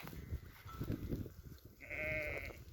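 A goat lets out one drawn-out bleat, fairly close and clear, following a stretch of rustling and shuffling noise.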